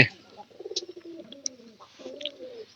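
Domestic native pigeons kept in a village coo close by, a run of low, throaty rolling calls with short pauses between them and a few faint high chirps mixed in.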